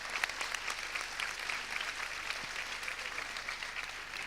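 Faint, steady applause from a class audience for the Deliberative Council, an even patter of many hands with no voices over it.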